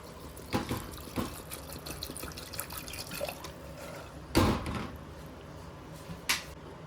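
Water is poured into a pressure cooker holding green peas, giving soft trickling and dripping with a few sharper splashy bursts, close and fairly quiet.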